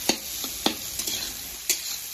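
A curry of green banana and papaya fries in a pan on a gas stove, a close, steady sizzle broken by a few sharp spoon taps against the pan.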